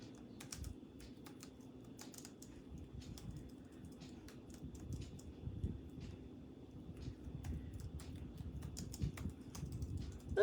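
Fast typing on a computer keyboard, a steady run of light clicks and clacks close up, continuing for about ten seconds with small pauses, over a low background hum.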